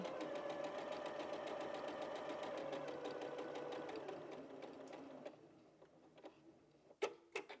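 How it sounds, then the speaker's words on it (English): A sewing machine stitches a Dresden Snowflake quilt block, running steadily and fairly faint for about five seconds before stopping, followed by a few quiet clicks and taps as the needle is positioned. "I'm just going to do one more stitch, but I don't want to go over that edge, so I'm going to stop there"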